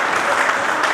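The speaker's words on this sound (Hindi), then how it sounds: "आप तालियों से अभिवादन करें।" An audience at a community picnic member introduction claps loudly, a dense burst of applause filling the whole moment with no voices over it.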